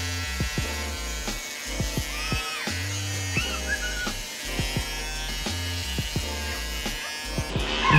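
Electric hair clippers buzz through a home haircut, switching on and off in a steady drone with short gaps, while faint voices and shifting tones pass over the motor hum.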